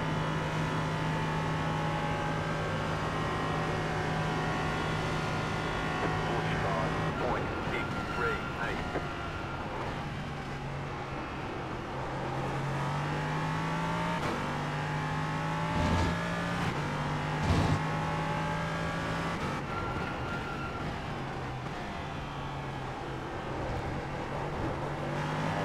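An LMP3 prototype race car's engine revs hard through the gears up to about 6,900 RPM in fifth, with a steady, loud drone and a few pitch drops at the shifts.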